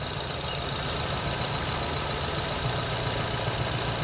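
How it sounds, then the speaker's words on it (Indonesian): A Nissan Grand Livina engine idling roughly at low RPM, a steady close mechanical drone with a faint knocking vibration throughout and no speech. "Tuh, geter-geter loh mesinnya."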